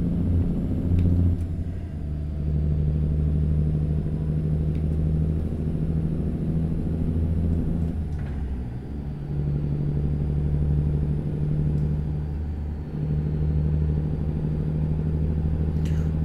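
A tuned truck engine in American Truck Simulator drones steadily while driving, a loud low rumble with a strong hum that dips briefly around gear changes and holds otherwise constant.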